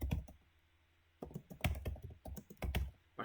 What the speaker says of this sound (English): when I'm typing this